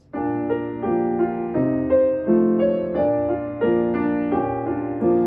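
Piano plays a bouncy ragtime passage of chords with the sustain pedal held, notes ringing and blending into one another.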